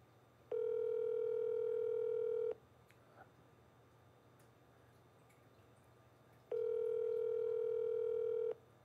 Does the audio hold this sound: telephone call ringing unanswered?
yes